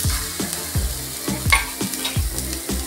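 Chopped onion sizzling and frying in a pan for gravy, with a steady hiss broken by repeated low clunks and scrapes of a spoon stirring, close and with no talk.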